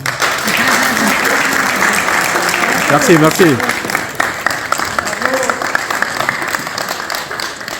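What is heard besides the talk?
audience applause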